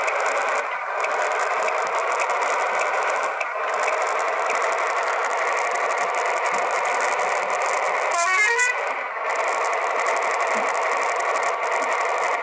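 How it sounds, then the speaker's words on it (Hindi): A pickup truck's horn honks in the Bus Simulator Indonesia driving game, a brief burst of repeated pulses near the middle, over a steady, loud engine and traffic drone. "अरे पिकअप हॉर्न क्यों मार रहा है"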